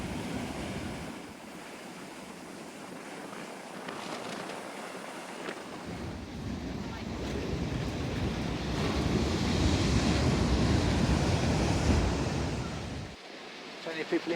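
Rough sea surf breaks and roars along the coast at Teignmouth while gusty wind buffets the microphone, the wash swelling louder midway through a windy walk.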